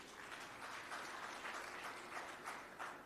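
Applause from the audience at the ANC National General Council, a faint, distant, sustained patter of many hands clapping with no voices.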